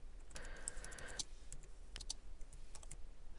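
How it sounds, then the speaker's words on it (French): Typing on a computer keyboard while entering a poll question in WordPress 3.4: a quiet run of close, light key clicks, with a few scattered taps afterward and no talking. "je saisis à l'aide de mon clavier cette question"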